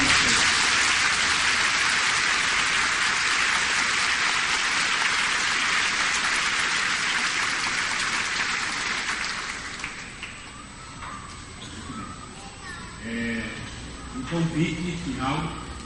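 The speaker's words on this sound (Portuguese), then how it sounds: "Uma salva de palmas" Congregation applauding at a Catholic mass, a dense roar of clapping that fills the first ten seconds, then thins and fades as a voice begins speaking over the last few seconds.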